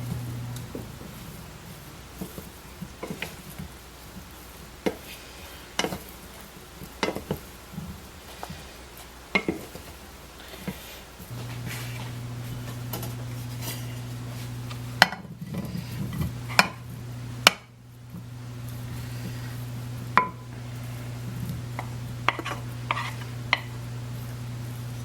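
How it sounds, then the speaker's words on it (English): A spoon stirs ham mixture and vegetables into a potato casserole, making soft scraping and clinking against the dish in scattered strokes over a low steady hum from nearby kitchen equipment. "I'm now going to stir in the ham mixture and vegetables. Just mix that all up."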